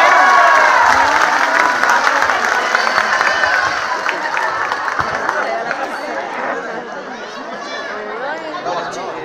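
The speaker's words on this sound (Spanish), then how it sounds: "Fuerte los aplausos" Loud crowd applause mixed with cheering and chatter at a San Juan feast day dance celebration in Cacahuatepec, with a folk music group performing; the clapping stays dense throughout and fades slightly toward the end.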